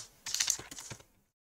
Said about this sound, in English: that is me hitting the home button there to get that little heart up